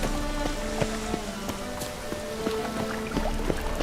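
Steady rain in The Witcher 3: Wild Hunt patters and hisses throughout, with scattered sharper drops and faint tonal sounds layered over the wash of water.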